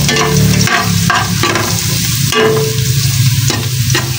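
Garlic sautés in a hot pan for chicken sinigang, a steady close sizzle with intermittent stirring scrapes throughout, no talking.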